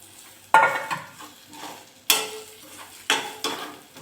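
A spoon scrapes and stirs mashed brinjal with roasted onion in a hot pan, a series of sharp metallic scrapes at irregular intervals over a soft, steady sizzle, with no talking.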